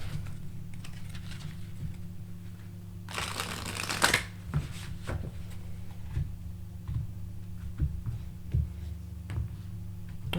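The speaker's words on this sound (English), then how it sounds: "let's shuffle it again." Tarot cards shuffled during a reading, a dense papery riffle burst in the middle followed by lighter scattered card flicks and taps over a steady low background hum.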